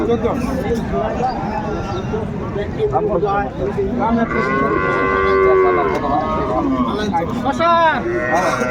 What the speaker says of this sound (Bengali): আমরা দেখছিলাম গাভী বাছুরটি দেখছে